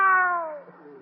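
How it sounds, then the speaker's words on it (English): A single drawn-out kitten meow, clear and close, falling slightly in pitch before trailing off. "Come on, Kitty. Now you two."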